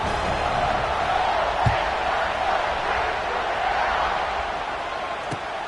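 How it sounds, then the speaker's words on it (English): A large stadium crowd at an American football game keeps up a dense, steady roar after a score, filling the air at a constant level with a couple of brief thuds standing out above the din. "this crowd is buzzing after that last score"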